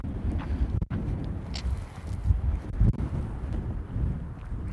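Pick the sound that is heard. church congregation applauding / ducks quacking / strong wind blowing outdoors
strong wind blowing outdoors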